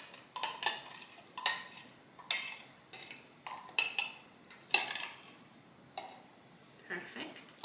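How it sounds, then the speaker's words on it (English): Fruit pieces dropped into dessert cups of cooled milk, giving about a dozen light clinks and taps of utensil against cup in an uneven rhythm, close and fairly quiet, with no talking. "So now that the milk is cooled down, I'm going to add the fruits to the cups."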